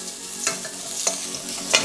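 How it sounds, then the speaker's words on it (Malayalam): Coconut and coriander roast dry in a pan, with a soft crackle under three distinct scrapes of a spoon stirring them. The sound is close up and has no talking. "അപ്പോൾ ഇതേ നാളികേരവും മല്ലിയും നന്നായിട്ട് വറുത്തുകൊണ്ടിരിക്കുക"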